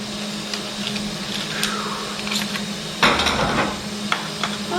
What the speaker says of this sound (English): Got to weld up and around that corner.